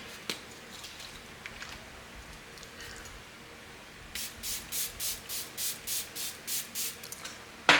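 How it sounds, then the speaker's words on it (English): A Fenty face mist is sprayed onto a face in about ten quick, evenly spaced hissing bursts, close and fairly loud after a quiet start, with a soft rustle and a click at the end. "we're gonna spray our face. I went and got my Fenty You Mist spray"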